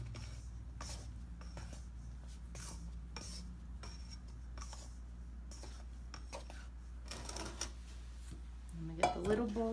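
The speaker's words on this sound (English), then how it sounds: "Now I'm going to stir this all up just to get it nice and incorporated." Flour mixture for pie crust stirred in a bowl, a steady run of soft scraping and light clinks from the utensil against the bowl, with a little louder clatter near the end.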